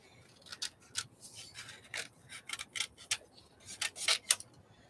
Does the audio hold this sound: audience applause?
no